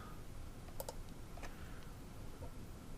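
Computer mouse clicking during a physics simulation, a few sharp clicks, some paired in quick succession, close and fairly quiet over steady low room hum, with no speech.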